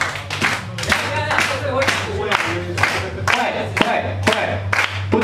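An audience at a dance-club farewell competition claps in unison at a steady 120 BPM, with sharp loud regular hand claps over a murmuring crowd and some voices.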